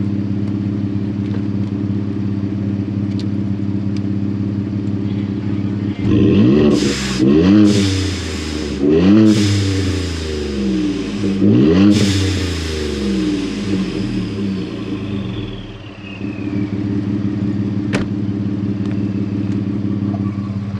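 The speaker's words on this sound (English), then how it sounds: "So that was the exhaust" A Ford F150 with the 3.5 EcoBoost twin-turbo engine idles with a low rumble, then its exhaust revs hard in several rising bursts before settling back to idle.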